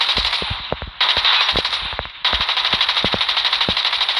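An MP5 fires in rapid automatic bursts in the mobile shooter game COD Mobile, with sharp, loud, close shots over a steady hiss of game background noise and no talking.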